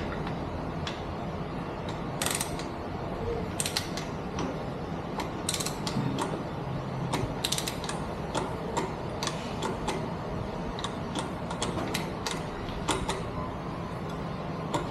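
A torque wrench set to 25 Nm on the oil drain plug of a CFMOTO 450SR motorcycle gives repeated close, crisp clicks and ratcheting ticks in an irregular rhythm over a quiet mechanical background, with no speech.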